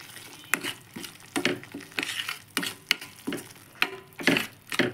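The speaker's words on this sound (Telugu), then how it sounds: "మిరప్పొడి, ధనియాల పొడి, పసుపు పొడి, గరం మసాలా, తగినంత ఉప్పు ఉంది వేసి కొద్దిగా ఫ్రై చేయాలి" Ground chili, coriander, turmeric and garam masala frying briefly in a pan for a fish curry, with soft sizzling broken by repeated scraping stir strokes and clinks at an uneven rhythm, close and fairly quiet.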